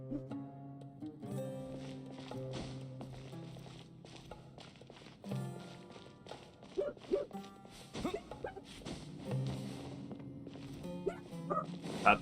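Two puppies yip and bark in scattered bursts nearby indoors, mixed with shuffling footsteps and rustling movement, the barks clustering more densely toward the end.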